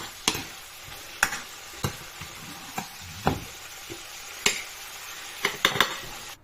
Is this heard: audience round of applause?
no